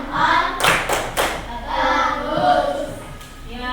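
Fifth-grade class in a classroom doing the 'tepuk jempol' clapping chant, several loud sharp claps close together near the start, mixed with children's chanting voices.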